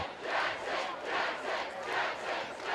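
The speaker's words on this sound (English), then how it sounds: "the crowd on Merrimack's side chants his name, Jackson Jackson" Visiting fans at a high school football game between Bishop Guertin and Merrimack chant a running back's name in a steady two-beat rhythm, loud crowd voices rising and falling across the stands.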